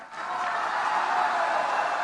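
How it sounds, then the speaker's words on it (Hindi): Rally crowd in Bolangir, Odisha clapping hard for a speaker, a dense, sustained wash of applause that swells quickly at the start and holds loud and steady. "ये देखो, आपने ताली बजाई"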